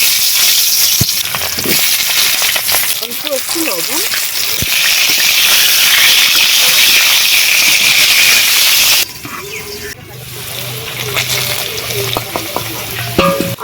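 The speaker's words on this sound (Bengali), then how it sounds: "তেল গরম হয়ে গেছে তেলের মধ্যে দিয়ে দিচ্ছি কেটে রাখা এগুলো নতুন আলু" Cut new potatoes fry in hot oil with a loud, dense, crackling sizzle that runs steadily, then drops to a softer bubbling hiss partway through, with occasional stirring clatter close by.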